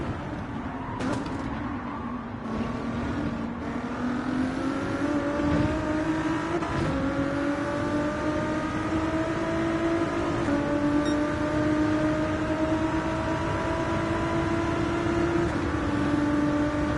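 Race car engine in Gran Turismo 7 on PS5, an untuned car in a daily online race, holding a steady loud drone with rising and falling engine tones throughout, with no talk over it.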